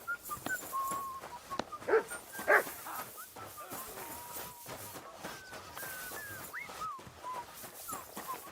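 A dog in the video game Kingdom Come: Deliverance II gives short barks and whimpering yips over a low ambient background, moderately near, with a few louder barks around the middle.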